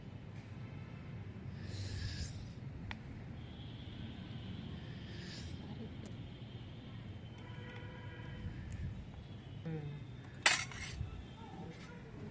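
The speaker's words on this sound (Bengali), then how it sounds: "এবার আমি মাখাচ্ছি সব মশলা দিয়ে।" A spoon scrapes and clinks in a bowl while mutton is worked together with spices, yogurt and mustard oil, a steady soft mixing sound with a few sharper metallic taps near the end.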